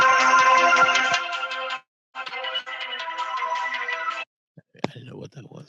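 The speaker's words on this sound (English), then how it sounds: "Is your phone ringing?" A phone ringtone plays loudly in two long musical bursts separated by a short gap, then cuts off, with a voice speaking briefly afterward.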